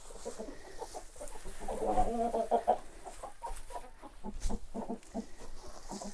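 A rooster on a northern farm clucks in soft, rhythmic bursts inside a quiet coop, fairly faint against low background noise.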